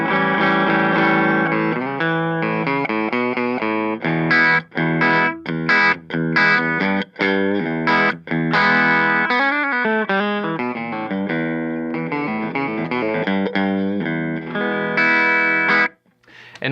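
Distorted electric guitar on the bridge pickup of a Reverend Airsonic plays a melodic run of sustained notes with a bright, nasal, mid-heavy tone, ending in a short silence.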